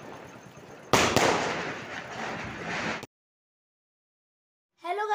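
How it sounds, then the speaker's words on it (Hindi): A sky shot firework bursting at Diwali, a sharp loud crack followed by a crackling, hissing shower that fades after about two seconds, then a voice starts speaking. "देखो ये स्काई शॉट।"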